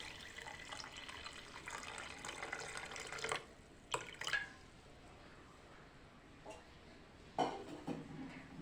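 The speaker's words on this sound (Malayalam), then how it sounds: "ഇനി ഞാൻ അതിന് വെള്ളം ഒഴിക്കുവാണ്." Water poured onto a piece of beetroot in a blender jar for a lemon drink makes a faint, splashing, gurgling flow with a few soft knocks and pauses, heard close by with no talk.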